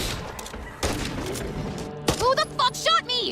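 Sharp gunshot blasts ring out in the zombie shooter Back 4 Blood, a few close thumping cracks followed by a voice speaking loudly over the game sounds.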